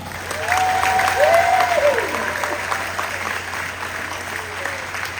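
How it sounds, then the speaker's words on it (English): Graduation ceremony audience in Pohnpei claps in a sustained round of applause, swelling early and then tapering slightly, while a voice or cheer rises briefly over the clapping. "Let's give them another big round of applause."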